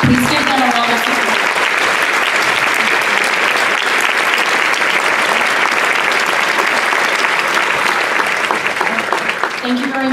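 Sustained, dense applause from an audience at a keynote luncheon fills the room, loud and even throughout with a faint voice at the start and end.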